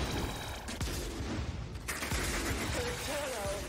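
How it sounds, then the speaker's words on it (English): Gunfire and airstrike blasts in Warframe crackle as a steady, fairly quiet barrage of rapid shots and dull impacts, with a brief whistling tone near the end. "Fucking airstrike"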